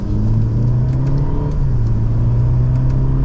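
A 2024 Mercedes-Benz E350 sedan's engine pulls steadily under acceleration while driving, a loud, continuous low hum and rumble with a shifting pitch, heard from inside the cabin with no talking.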